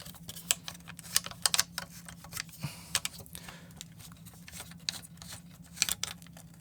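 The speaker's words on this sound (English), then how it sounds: "to take the top handle off, all we have to do is just turn these screws right over here" Small screws being turned out of the top handle of a Sony FX6 camera, heard as a run of dry, close clicks and ticks at an uneven pace over faint room hiss, with no talking.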